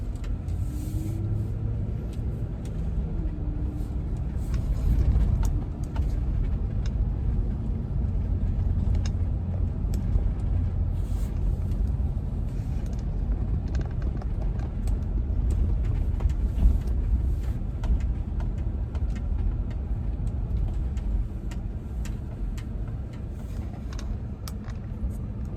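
A Kia SUV drives and makes a U-turn before going onto a bumpy road. A steady low engine and road rumble runs from inside the cabin throughout, with occasional knocks and thumps from the rough surface.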